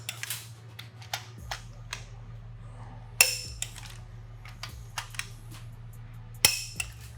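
A Snap-on click-type torque wrench tightens cylinder head bolts on a Toyota 2JZ engine, giving two sharp, distinct clicks a few seconds apart over a steady low hum.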